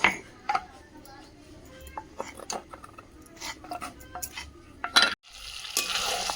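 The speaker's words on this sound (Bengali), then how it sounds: "চিকেনটা খুব সুন্দর করে কষিয়ে নিয়েছি, আর একটা চটচট আওয়াজ হচ্ছে।" Chicken crackling as it fries in a pan, with sharp clatters and scrapes of stirring over a low sizzle, and a brief gap before louder frying resumes; there is a short burst of speech at the start.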